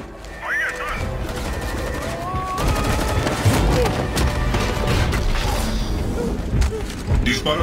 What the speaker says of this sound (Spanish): Disparos intentan detenerme.